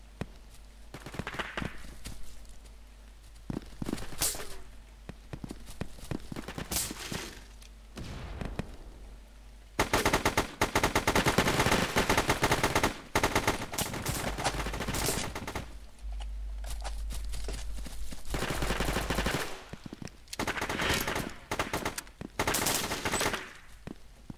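Gunfire in the video game Brain-Out: loud, rapid automatic bursts and single shots crackle in clusters, building to dense, sustained volleys through the second half with hardly a pause.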